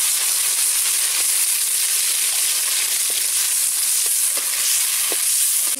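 Tomatoes frying in hot oil with mustard seeds and onion in a pan for a ridge gourd and peanut stir-fry, giving a steady loud hiss with a few faint clicks of stirring, no talking.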